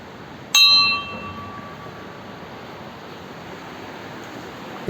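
At the Shiva temple by the Amsoi Shivakunda stream in Morigaon, Nagaon, a bell is struck once with a bright clang whose ring decays over about half a second, set against steady rushing water and wind.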